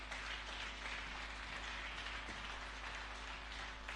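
A congregation applauding during a Sunday church service, a dense steady wash of clapping that holds at one level throughout, with no voices above it.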